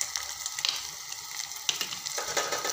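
Tomato sautéing in a pan with red chili powder, turmeric and coriander powder, a steady soft sizzle with a few sharper crackles and scrapes of stirring, close and alone.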